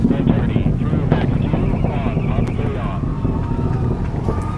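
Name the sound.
SLS rocket engines during launch ascent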